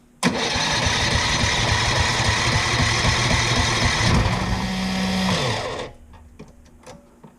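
A Tillotson 212E small engine conversion on its first start attempt catches and runs at a loud, steady buzzing idle for about five seconds, then sags and cuts out, leaving faint clicks and quiet.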